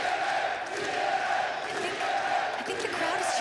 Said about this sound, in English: I think the crowd is cheering for me again. They're chanting TNA, Ariana, I promise.